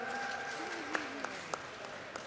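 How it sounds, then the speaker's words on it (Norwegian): Audience applause at a maritime technology quiz event, soft and somewhat distant, a steady wash of clapping with a few sharper claps standing out. "Er litt større applaus for det."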